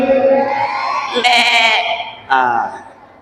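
Members of a mosque audience at a Maulid sermon imitate a goat's bleat, a few wavering bleating voices overlapping loudly for about a second, followed by a shorter second burst.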